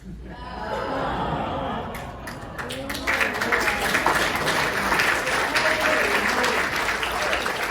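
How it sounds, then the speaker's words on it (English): Conference audience at a Rotary District 5040 gathering breaks into sustained applause, swelling and growing louder after a few seconds, with scattered chuckles and voices mixed into the clapping. "Give Christine another applause."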